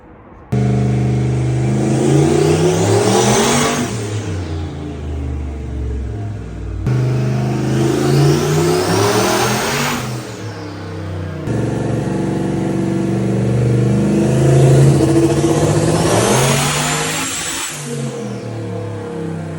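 A turbocharged LS-swapped notchback car on its first drive, the engine revving hard through three loud rising pulls with gear changes between them, heard up close with a turbo whistle climbing over the roar.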